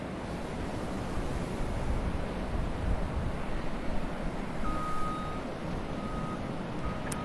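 Steady, broad wind rumble buffets the microphone throughout, with a faint thin tone appearing briefly near the end.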